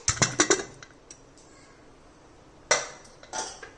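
A metal lid comes off a pressure-cooked chicken pot with a cluster of sharp clinks and rattles, then a pause, then one loud clank and a few lighter knocks, close by and with no talking.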